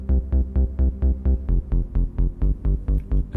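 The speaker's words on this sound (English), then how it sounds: "We've got a bass pattern that sounds like this," A Roland JD-Xi synth bass pattern pulses alone in a steady, evenly repeated rhythm of short, deep, punchy notes, loud and up front.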